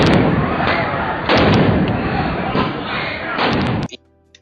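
Repeated loud booming blasts of police flashbang grenades, several dense broadband bursts in quick succession that end abruptly into quiet.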